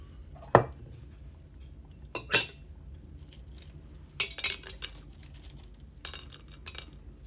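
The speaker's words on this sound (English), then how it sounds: "You can hear them make a great noise as they ting into the jar." Dried apple slices dropping into a glass jar make a few bright, sharp clinks and tings, single and in short clusters with quiet gaps between, close and fairly faint.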